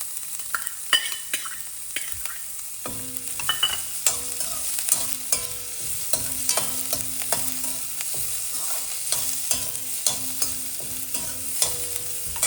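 Sliced onion sizzles and fries in a pan for a bottle gourd and black-eyed bean curry, with steady crackling and frequent scraping stirs of a utensil, heard close with no talk.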